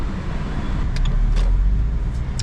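Steady engine hum and road rumble inside a Maruti Suzuki Fronx Turbo on a test drive, checking a shuddering fault after an engine oil change; continuous and close, with a few faint clicks and no talk.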